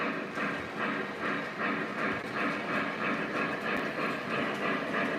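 A CC2 model train runs along its track with a steady, evenly spaced clicking rhythm that holds moderately loud and consistent throughout, with no voices.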